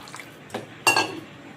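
Water poured into egg gravy in a home kitchen pan, heard as a couple of soft clinks and a short splashing pour up close, with no speech.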